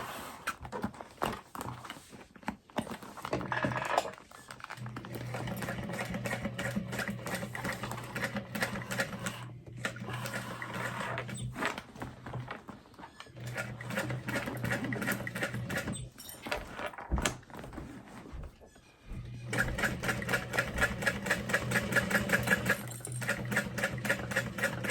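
A sewing machine stitching the corner of a tote bag, a fast rapid-fire whirring clatter in bursts separated by short pauses, close and steady.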